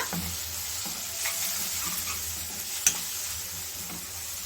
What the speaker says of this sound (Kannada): ಇಷ್ಟನ್ನು ಹಾಕ್ಕೊಂಡು ಒಂದ್ಸಲ ಮಿಕ್ಸ್ ಮಾಡ್ಕೊಳ್ಳೋಣ